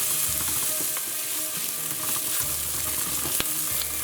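Onions and garlic sautéing in a pan give a continuous loud sizzle, close up, with a few faint stirring clicks and a low background hum, no talking.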